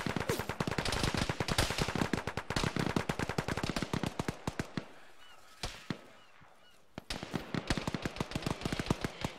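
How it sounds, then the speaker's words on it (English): Heavy machine gun fire in the military shooter Arma, long rapid bursts of sharp cracks, loud and close, pausing briefly midway before hammering on again, with no talk over it. "Got a heavy gun, stay in cover."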